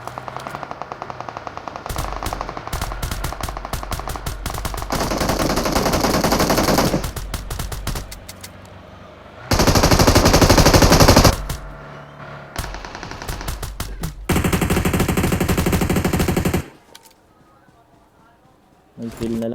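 Machine gun fire from PUBG Mobile erupts in several loud sustained bursts separated by short pauses, with players talking over the shooting throughout.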